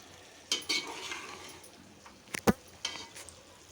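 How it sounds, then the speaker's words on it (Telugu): A spoon stirs chili powder into a country chicken curry in a pot, giving a few scattered scrapes and clinks over a quiet background, with one sharper knock near the end. "సరిపడా తగినంత కారం యాడ్ చేసుకొని కూరని కలుపుకుందాం"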